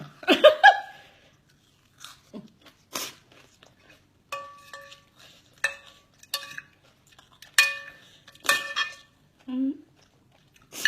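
Khanom jeen rice noodles being eaten at close range, with scattered bites, slurps and chewing sounds plus a few light clinks of cutlery or dishes, broken by short pauses and a little nearby talk.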